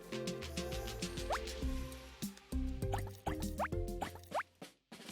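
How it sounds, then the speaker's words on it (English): Drops of food coloring falling into oil in a kids' activity: a run of wet, bubbly plops and pitched drips, several in quick succession, close and fairly clear, with no talk. "Add 4 or 5 drops of food coloring to the oil."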